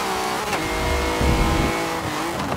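Volvo race car in Forza Motorsport 7 with a loud, steady engine drone and harmonic whine, rising slightly in pitch with brief tire noise, continuous throughout with no talk.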